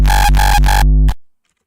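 Three heavy, distorted uptempo kick drum hits in quick succession with the balance switched off, each saturated and booming, followed by a shorter hit whose gritty distorted tail cuts off abruptly into silence.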